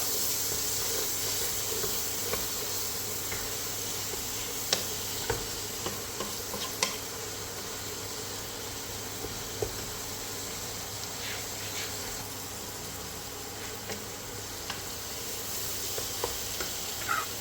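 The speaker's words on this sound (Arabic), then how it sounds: "نحركوها مزيان تشحر" Ingredients for a fish tagine sautéing in a pan while being stirred, a continuous close sizzle overlaid with scattered scrapes and light taps of the spoon against the pan.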